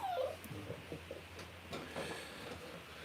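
A puppy whimpers and yips in soft, high-pitched bursts, close by and fairly quiet, with faint household background noise and no talking.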